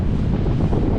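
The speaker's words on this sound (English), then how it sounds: "This wind is giving hard time now." Strong wind buffets the microphone on a high building exterior during abseiling work, a loud, constant rumbling roar with no break and no speech.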